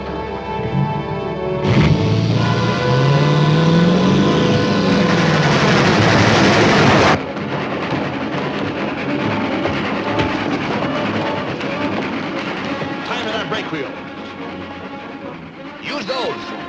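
A train rumbles loudly past with a rising roar and clattering wheels, then fades to a steady rolling rattle in the distance.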